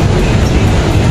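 A light rail train rumbles overhead on an elevated LRT line near Grand Central, with a loud, steady low roar filling the space and no pause.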